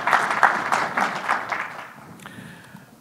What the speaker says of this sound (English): so we can all give Megan a round of applause, even though she's not here.